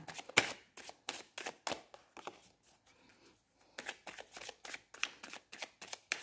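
Tarot cards are shuffled close by in quick, crisp riffling bursts, with a short pause midway before the rapid flicking resumes.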